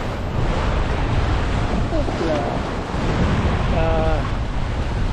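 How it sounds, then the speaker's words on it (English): Strong wind and rushing waves around a sailboat beating upwind into about 15 knots of wind on a solo passage toward Rockall, a loud constant roar of gusts and surf, with brief faint voice-like tones. "I'm beating into about 15 knots of wind."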